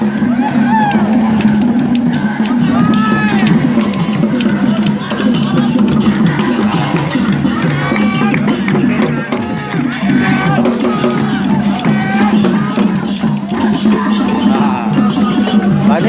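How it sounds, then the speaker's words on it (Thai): Cheering squads from different organisations roar together at an outdoor sports day, a dense, loud, continuous wall of massed voices with rhythmic chanting and shouts that never drops away. "กองเชียร์ก็เชียร์กันนะเสียงสนั่นวันไหวเลยนะครับ"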